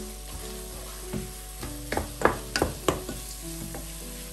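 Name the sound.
stirring chopped pistachios and almonds into radish halwa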